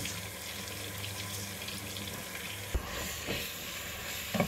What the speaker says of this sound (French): je vais bien faire frire jusqu'à ce que ça noircisse un peu